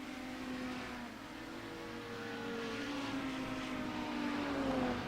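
Audi 90 GTO race car, a brutal 700 horsepower machine, driving the Nürburgring Nordschleife through fast direction changes, its engine droning and shifting pitch as it accelerates and lifts, heard from a moderate distance and fairly faint.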